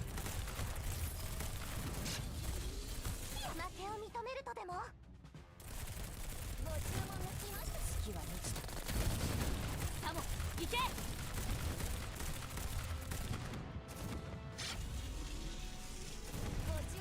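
Sustained barrage of explosive mortar-style firing and blasts in the Girls Frontline battle of Frankfurt, dense and loud throughout with brief lulls, mixed with game effects and some voice sounds.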